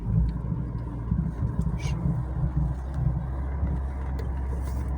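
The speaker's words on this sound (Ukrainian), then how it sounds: "Отпускаємо тормоз і вона вже сама їде." A BMW E46 3.0 touring car creeping forward on its own after the brake is released, a low steady engine idle rumble close by with faint road and wind noise.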